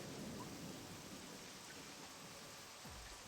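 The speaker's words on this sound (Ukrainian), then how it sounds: "Для нього дощик не такий теплий, як для них." Heavy rain and rolling thunder in the Hitman 2 video game form a dense, steady hiss of downpour with low rumbling underneath, continuous and alone.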